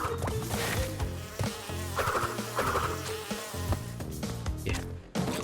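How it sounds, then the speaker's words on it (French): Bees buzz in the platform game Crash Bandicoot 2, a constant insect drone mixed with bouncy game music and sound effects, lively and fairly loud throughout. "ici, les abeilles."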